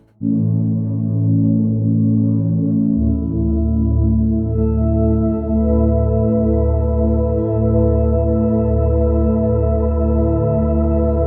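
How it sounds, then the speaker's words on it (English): A soft, warm synthesizer pad holds sustained chords that shift smoothly, with a gentle, steady swell and no other sounds. "So then we have pads that are soft and they sound like this."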